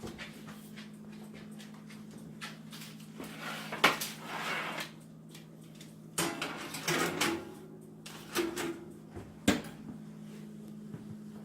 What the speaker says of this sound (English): I'm going to throw them in the oven.